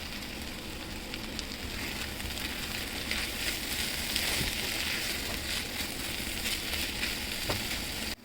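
Fish sizzles steadily in hot oil in a pan, with ground panch phoron spice added, giving a dense, constant close-up crackle with occasional small pops and no talking.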